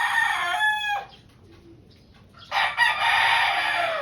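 Tornado x White Kelso gamecock stags, seven months old, crow loudly nearby: one crow fading out, a short pause, then a second crow starting and holding to the end.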